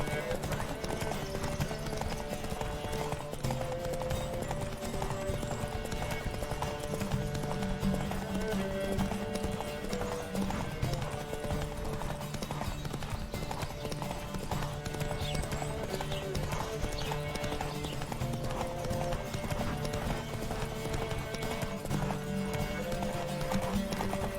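Horse hooves clip-clop at a steady gallop through a horse race in The Witcher 3, continuous and close for the whole stretch, with music and occasional game voices over the pounding rhythm.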